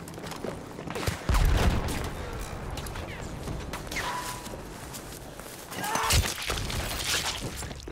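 Battlefield 1 gunfire heard as a few sharp, scattered shots and impacts over a busy battlefield background, with louder bursts near the start and toward the end.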